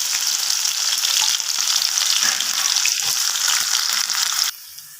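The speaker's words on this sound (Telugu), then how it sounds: "ముందుగా పచ్చిమిర్చి వేసుకుందాం. ఆనియన్స్ వేసుకుందాం." Green chilies and onions sizzle in hot oil, a dense, loud crackling hiss that holds steady before dropping to a quieter sizzle near the end.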